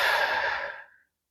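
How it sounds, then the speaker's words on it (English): A single long, deep exhale during a yoga twist, close and breathy, fading out after about a second into silence. "Big deep breaths here."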